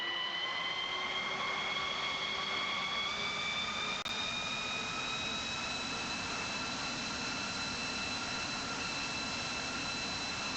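Airplane engine in the PTFS video game, a steady loud jet-like whine with rising tonal harmonics held throughout, one brief click midway, no talking.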